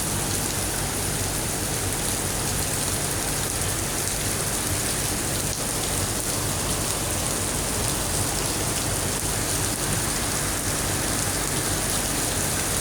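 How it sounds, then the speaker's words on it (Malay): Heavy rain pours down steadily, a dense, continuous hiss of drops hitting surfaces close by, loud and unbroken throughout with no voices. "Hari ini tiba-tiba hujan pula."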